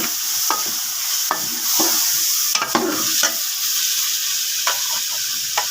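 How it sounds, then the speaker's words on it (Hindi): Chicken fries with garlic, ginger and green chili in a pot for nihari, giving a constant close hiss and sizzle with occasional spatters and stirring scrapes, and no speech. "लहसुन, अदरक और हरी मिर्च मिक्स की हुई ये आपने इसमें डाल देनी है। अब इसको अच्छे तरीके से भूनें।"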